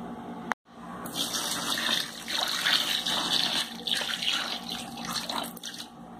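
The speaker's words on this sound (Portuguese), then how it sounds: "Agora vou botar água morna, tá?" Warm water pours steadily from a tap into a basin used for washing cloth diapers, a continuous close gushing after a brief knock at the start.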